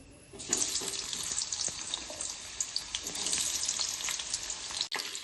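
Potato pieces frying in oil, a steady dense crackling sizzle that stays close and fairly loud, broken by a few small clicks and a short dip near the end, with no talking.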